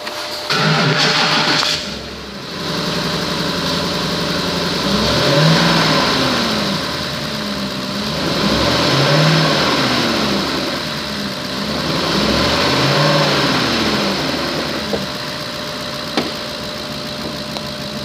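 A 2010 Ford Expedition EL Limited V8 engine rumbles steadily at idle after starting, with slow rises and falls in revs repeating across the clip, close and continuous with no talking.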